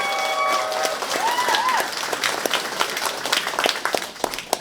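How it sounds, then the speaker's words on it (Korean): Warm applause from the crowd at the opening of Lee Jun-seok's Reform Party campaign office in Hwaseong, honoring lawmaker Kim Jong-min. Dense, steady clapping with scattered sharper claps and a few whistles near the start. "다시 한번 우리 김종민 의원님께 뜨거운 박수 부탁드리겠습니다"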